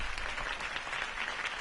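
Crowd applause in a Batman video game: a steady, fairly quiet patter of many hands clapping together, sustained throughout.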